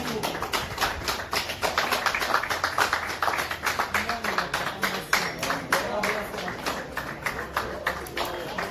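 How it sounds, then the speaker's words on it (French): Audience at a civil wedding clapping in a dense, steady patter for the registry officers' entrance, close and continuous with a high electronic whistle running through it. "C'est parti, on applaudit tout fort."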